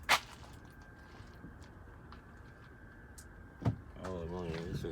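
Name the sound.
salvage semi truck door opening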